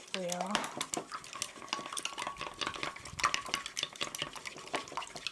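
Eggs with green onion are beaten for egg rolls, a steady clatter of a utensil whisking against a bowl with quick, irregular taps and clinks throughout, at moderate distance.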